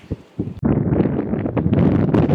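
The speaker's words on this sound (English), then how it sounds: "Very, very windy right now." Strong wind buffets the microphone in a loud, continuous rumbling roar after a brief quieter moment at the start.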